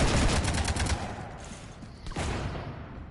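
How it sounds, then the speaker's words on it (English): Gunfire striking a ship in the Mass Effect 3 video game, a rapid burst of loud automatic shots clattering in quick succession, then a pause and a second crack amid mechanical rumble. "You want to stop shooting up my ship?"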